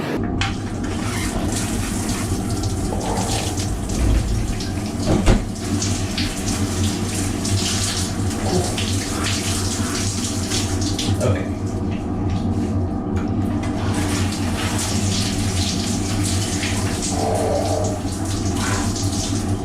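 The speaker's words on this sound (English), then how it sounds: "turn on the water, rinse off, shut off the water again, and that's your standard submarine shower" Shower water on a nuclear submarine runs in a steady loud hiss and splash, with a brief thump midway and short bits of people talking over it.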